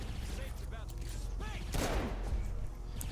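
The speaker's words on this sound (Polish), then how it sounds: "napieprzają we mnie tymi jakimiś swoimi armatami, rakietami" Enemy cannon and rocket fire in the video game Saints Row IV, a burst of rapid shots and a heavy blast with whooshing tails over a low rumbling game soundscape, fairly quiet overall.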